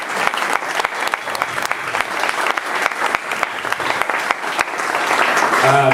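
Applause from an audience at a 2022 Hall of Fame ceremony: dense, steady clapping for the full six seconds that swells toward the end, with a voice speaking briefly underneath.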